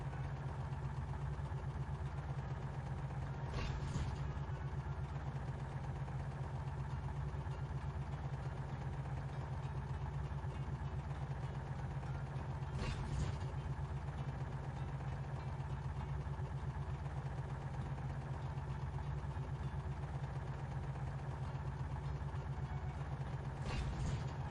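A tractor engine drives steadily in the PC game Three from Prostokvashino from 2006, a constant low mechanical drone, quiet and unbroken, with a few faint clicks.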